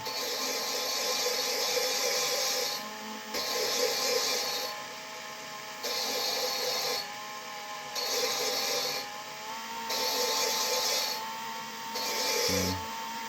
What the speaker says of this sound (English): You kind of hear it less grinding on there.